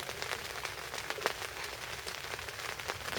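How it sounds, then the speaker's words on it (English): Steady rain falls hard around a camper's bivvy tent outdoors, a dense, continuous patter with scattered sharper drops close by, filling the whole moment with no voices. "it's still raining. Raining on and off pretty hard."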